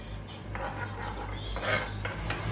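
Small eggplant pieces are tossed into a frying mixture in a pan, with scattered clinks and scrapes of utensil against metal and a low sizzle underneath, close up and without speech.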